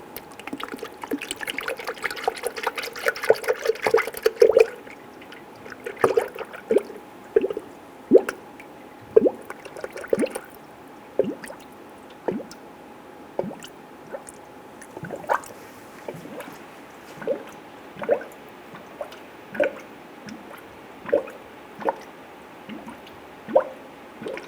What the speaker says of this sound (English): start to fill the cooling system with the recommended coolant from the manufacturer